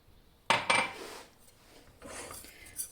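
A spoon scraping and clinking in a bowl while stirring egg, flour and yogurt for a baby's yogurt soup, with two sharp metallic scrapes followed by softer rubbing, close and fairly quiet.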